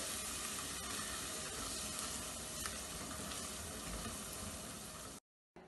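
Garam masala, chili powder and turmeric fry in oil for jackfruit biryani, giving a continuous close, even sizzle that cuts off abruptly near the end, with no talking.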